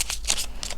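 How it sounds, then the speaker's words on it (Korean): Tarot cards being shuffled and drawn, a few quick crisp riffling bursts, close and fairly quiet, with no voices. "우리 여러분이 질문을 생각하시는 동안 전 카드를 뽑아보도록 할게요."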